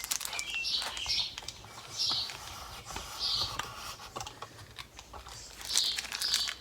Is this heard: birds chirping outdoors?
yes